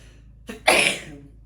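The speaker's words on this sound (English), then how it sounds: "I had to sneeze" A single sharp sneeze, preceded by a short inhaling catch, loud and close, then fading quickly.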